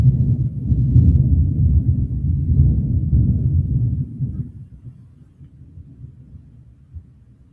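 Thunder from a lightning storm rolls in a long, low rumble, loud at first and then fading into a softer distant murmur.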